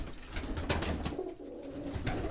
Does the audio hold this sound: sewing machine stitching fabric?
no